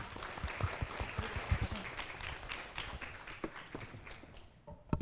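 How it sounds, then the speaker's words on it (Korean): Light, scattered hand claps from a small audience at the Ewha Startup Forum sound fairly faint and distinct, individual slaps audible rather than a dense roar, tapering toward the end. "함께 해주신 두 분께 큰 박수 부탁드립니다"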